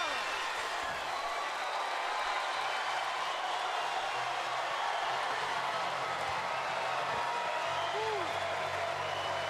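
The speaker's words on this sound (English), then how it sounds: "And that brings the crowd alive here." Arena crowd at a women's boxing bout, Claressa Shields versus Hanna Gabriels, roars steadily after a straight right hand, a dense sustained wash of cheering and applause that holds at an even level throughout.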